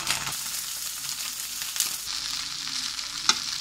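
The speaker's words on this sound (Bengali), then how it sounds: "এবার এর ভিতরে আমি খিচুড়িটা ঢেলে দেবো।" Cooked khichuri tipped into a pan where egg has been frying, giving a steady close sizzle with a few faint stirring scrapes and no voices.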